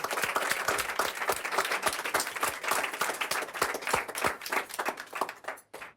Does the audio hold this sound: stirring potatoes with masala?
no